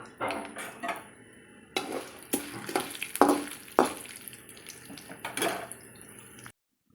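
Urad dal and chana dal fry in hot oil in a pan, with soft sizzling under intermittent scraping and stirring strokes of a spoon against the vessel, ending abruptly.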